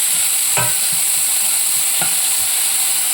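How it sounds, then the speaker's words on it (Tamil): Onions and curry leaves sauté in a pan with a steady, loud sizzle, broken by a few sharp scraping stirs. "நல்லா வதக்கிக்கிறோமா."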